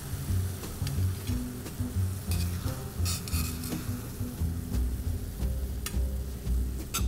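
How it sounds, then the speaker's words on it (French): Beef bavette steaks reheat in a hot pan with a steady sizzle, broken by scattered metallic clinks and scrapes from utensils against the pan. "On va juste apporter un petit peu de chaleur à nos bavettes."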